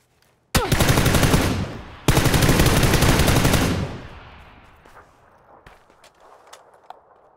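Automatic gunfire in the video game PUBG: two loud, rapid bursts lasting a few seconds each, followed by a fading tail with scattered distant shots and clicks.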